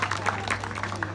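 A brief burst of audience clapping at a Hindi comic poetry gathering, fairly faint and dense, with a steady low hum underneath.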